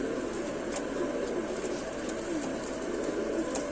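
An old Rampuri pigeon with a waxy beak coos faintly amid steady background noise, low soft calls close by, with no voices.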